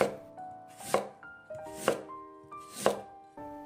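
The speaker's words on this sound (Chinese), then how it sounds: "然后改刀给它切成片，也不要切得太薄了" Kitchen knife slicing a spring radish into thickish pieces on a cutting board: three crisp, close chops at an even pace, each with a short crunchy snap, in an otherwise quiet room.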